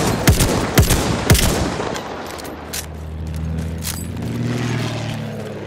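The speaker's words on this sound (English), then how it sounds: "Machine gun right there!" Battlefield 1 machine gun fire opens with several sharp, close bursts of shots, then fades into distant rattling and a low rumbling engine drone.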